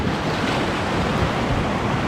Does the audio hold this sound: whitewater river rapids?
yes